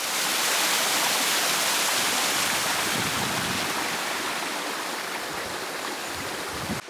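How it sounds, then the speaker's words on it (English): A waterfall roars in a steady, dense rush of falling water, loud and constant throughout, with no voices over it. "Ladies and gentlemen, your waterfall."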